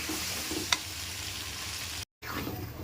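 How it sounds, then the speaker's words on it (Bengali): Stuffed eggplant curry cooking in oil and masala on low heat, a soft continuous frying hiss with a faint spoon tap, cut by a brief silence near the end. "এখন এটা অল্প আঁচ দিয়ে আমি ঢেকে ঢেকে কষাবো।"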